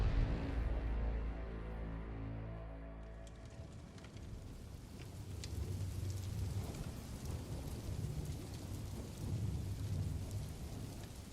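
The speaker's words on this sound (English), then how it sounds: "The rain against the Batcave's reinforced glass created a rhythm" Rain patters steadily against reinforced glass, with a deep rolling rumble of thunder at the start fading into continuous soft drumming and occasional low swells.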